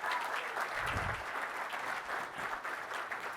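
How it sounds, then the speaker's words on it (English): A conference audience claps for a presenter at a tech session, a steady dense round of applause from a crowd that holds through the clip and then starts to thin. "Everybody give a big round of applause for Evan."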